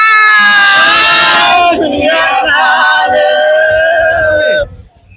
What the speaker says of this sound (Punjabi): ਜੈਕਾਰਾ ਲਗਾ ਦੋ ਜ਼ੋਰ ਦੀ ਬੋਲੇ